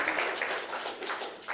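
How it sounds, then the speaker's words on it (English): Brief audience applause at a technology keynote in Tokyo, a soft, even patter of many hands heard from a distance for just over a second. "let's give a big round of applause"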